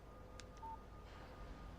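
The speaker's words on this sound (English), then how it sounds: "Text message from Barry." A phone text message alert in the Alan Wake video game: a single short electronic tone, faint and brief, with a couple of soft blips around it against low background hiss.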